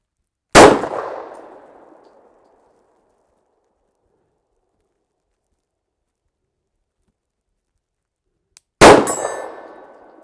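A pistol round strikes a steel target 50 yards away at night, giving two sharp, loud metallic clangs about eight seconds apart, each ringing out and decaying over a second or so, with silence between.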